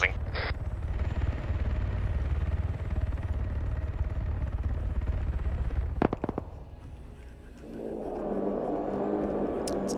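Video game helicopters produce a steady, loud rotor drone, broken by a burst of sharp cracks like gunfire, then a rougher engine rumble. Talk is faint or absent.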